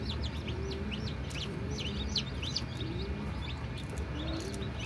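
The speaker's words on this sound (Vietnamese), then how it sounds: "Bắt mấy con gà con đang mới nở hồi cho nó lên đây nè mẹ." Newly hatched Egyptian chicks peep in quick, high, overlapping chirps, steady across the whole stretch over a busy, dense low hum of a crowded hatching area.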